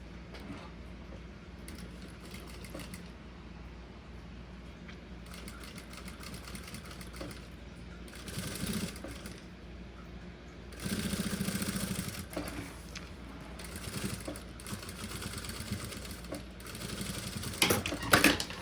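A sewing machine runs steadily, stitching a fabric document holder, with a continuous mechanical whir that pauses and surges in bursts over the stretch.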